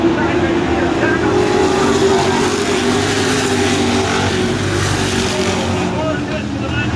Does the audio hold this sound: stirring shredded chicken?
no